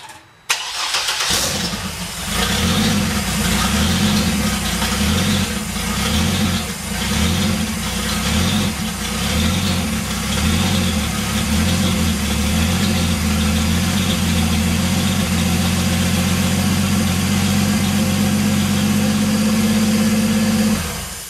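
A Vortec 4200 engine in a Ford Fairmont cranks and fires up, then settles into a loud, steady idle with an even rhythmic throb that continues for about twenty seconds; no speech.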